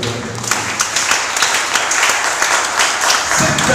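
A congregation applauds at a Friday church service, dense close clapping that runs the whole time with no break.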